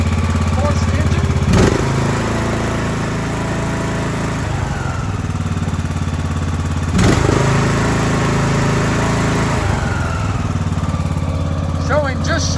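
A John Deere S100 lawn tractor with a 17.5 horsepower engine runs steadily and fairly loud the whole time, with a constant droning hum and no obvious revving.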